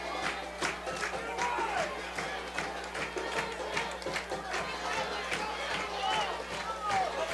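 Crowd at a varsity high school football game, Hicksville against Fairview, cheering and murmuring steadily throughout, with scattered shouts and whistles over a continuous broad roar, moderately distant.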